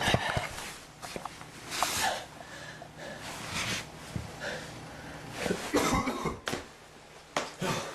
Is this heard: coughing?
yes